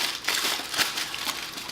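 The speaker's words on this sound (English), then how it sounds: "Basically all I do is make a lot of noise with some foil so you can't hear what I'm saying fully." Aluminium foil being crumpled and compressed over a wad of paper, a dense close crackling crinkle that runs steadily for under two seconds with no pauses.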